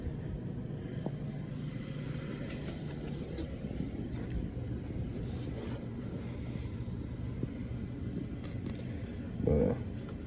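A bus heater fan blowing cold air inside a converted bus: a steady, moderately loud whooshing drone of moving air that continues unchanged throughout, with a brief bump near the end.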